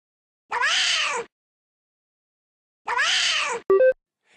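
Two short, clear cartoon cat meows from a children's matching game, separated by a pause, with a quick bright chime at the end.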